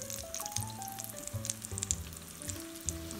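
A second batch of fish tikka fries in hot oil in a restaurant-style recipe, giving a steady close sizzle and crackle with scattered sharp pops and a tonal hum running beneath throughout.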